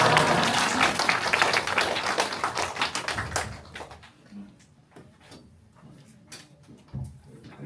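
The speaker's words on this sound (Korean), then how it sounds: "우리 박수로 환영하겠습니다." Church congregation clapping to welcome a pastor at a Sunday service, a burst of dense applause for about three seconds that thins out into a few scattered claps and quiet room noise.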